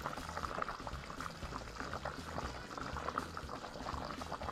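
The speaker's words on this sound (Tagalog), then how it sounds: "At pakukuluan hanggang maluto ang gulay" Vegetables with plenty of chili simmer in coconut milk, a close, continuous bubbling boil with dense low gurgles and small pops at a quiet, even level.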